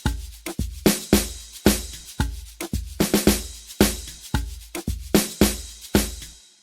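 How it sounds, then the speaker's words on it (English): Amapiano drum pattern with punchy kicks, sharp snares and a crash cymbal, looping in a steady syncopated groove, loud and close with no voices. "So the snares and a crash,"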